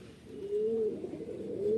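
An Andhra Kalanka pigeon gives a soft, faint coo, a drawn-out low note that rises gently and then breaks off, with a shorter coo following at the very end over quiet background noise.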